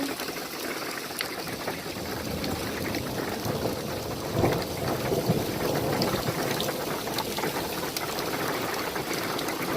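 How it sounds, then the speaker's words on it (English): A steady, dense roar of hail and rain beats on surfaces around Liard Hot Springs in Alaska, with a low rumble of thunder swelling through the middle; constant and close, no voices. "As long as the hail doesn't get any bigger,"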